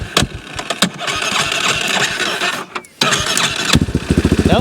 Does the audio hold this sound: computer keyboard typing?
no